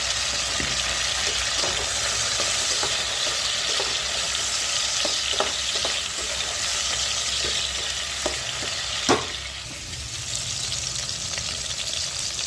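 Potatoes, raisins, tomato, ginger and green chili are stirred in a frying pan for lentil pulao, giving a steady close sizzle with repeated scraping strokes of a spoon and one sharper clack near the end.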